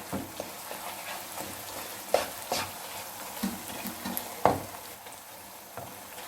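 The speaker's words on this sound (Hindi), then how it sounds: "अब हमने इसे मज़ीद भूनना है 2 से 3 मिनट।" Semolina halwa roasting in a pan, a low steady sizzle with a spoon scraping and knocking against the pan in occasional strokes, close and moderately quiet.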